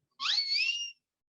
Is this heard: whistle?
yes